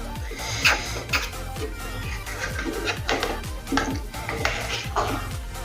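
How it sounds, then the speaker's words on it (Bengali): Ghee-coated Gobindobhog rice being stirred in a pot for payesh, a close run of repeated scraping and clinking strokes of a spoon against the metal pot, rhythmic and steady throughout. "সবকিছু একবার নেড়ে মিশিয়ে নেব।"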